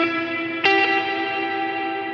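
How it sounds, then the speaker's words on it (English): An electric guitar is run through reverb on a Line 6 Helix with the high cut switched off. A single struck chord rings out brightly into a long, shimmering tail that fades slowly. "do you hear how much brighter the reverb sounds?"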